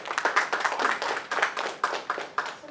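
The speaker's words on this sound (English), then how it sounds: "let's give a round of applause to welcome our expert" A small audience at an academic faculty development program clapping to welcome an expert speaker, a sparse, uneven patter of hand claps that stays close and fairly quiet.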